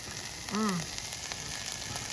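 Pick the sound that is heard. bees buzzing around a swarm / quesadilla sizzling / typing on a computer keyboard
quesadilla sizzling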